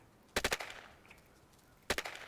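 Two short bursts of submachine gun fire in the online survival game Will To Live Online, each a rapid cluster of three or four loud shots, spaced about a second and a half apart in a village.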